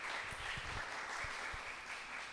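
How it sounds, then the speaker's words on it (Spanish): Faint, distant applause at a local writers' and poets' reading in Itagüí, a thin patter of scattered clapping from a small audience heard softly through room noise. "un fuerte aplauso a estos señores"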